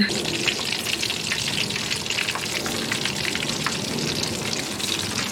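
Breaded chicken breast frying in a pan, a loud dense crackle and spatter holding steady throughout, close by and with no talking.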